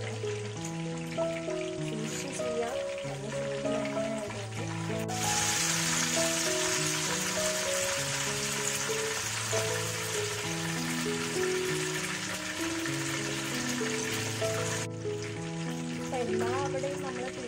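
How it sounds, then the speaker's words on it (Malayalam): A whole chicken deep frying in hot oil gives a steady, dense sizzle and crackle throughout, growing louder and harsher in the middle, with a faint tonal music bed underneath. "എല്ലാ അവിടെയും നമ്മൾ തിരിച്ച് മറിച്ച് വിട്ടൊക്കെ നമ്മുടെ എണ്ണയിൽ പൊരിക്കുന്നുണ്ട്"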